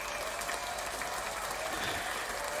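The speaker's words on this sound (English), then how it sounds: "So, as always, round of applause for you guys." Sustained applause during a live sports talk show, a dense continuous wash of clapping at steady loudness with no voices on top.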